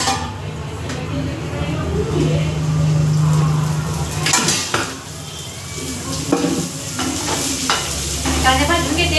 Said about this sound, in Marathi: चला मग बा इथे कांदे टाकले भाजायला.